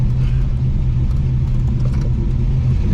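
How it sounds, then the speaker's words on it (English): A Chevrolet S10 engine rumbles loudly and steadily at close range, a low continuous drone from the motor with no voices over it. "Just heard the motor revving up."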